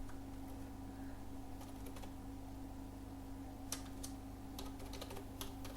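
Computer keyboard keys tapped in a few short bursts while a collection name is entered in a database management console, soft and close over a steady low hum, with no voices.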